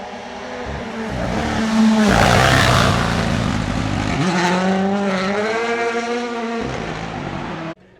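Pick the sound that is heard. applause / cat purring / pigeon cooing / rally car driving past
rally car driving past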